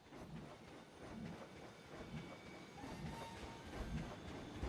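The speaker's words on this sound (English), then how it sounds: "Train looks pretty cool when it comes through here" A train runs through a theme park in the Planet Coaster video game, making a faint, continuous rumble with soft rhythmic rail clatter and a slight hiss that holds steady throughout.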